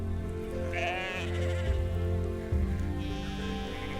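Sheep bleat near working sheepdogs, several wavering calls rising over a low rumbling background, moderately close and unaccompanied by talk.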